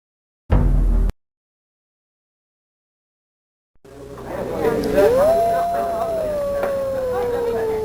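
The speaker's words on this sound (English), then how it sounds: "It was a wolf's howl, Governor." A wolf howl in the Sega CD game Dracula Unleashed: after a short loud burst and a silent gap, a long drawn-out howl rises then slowly falls, sustained and resonant over ambient game sound.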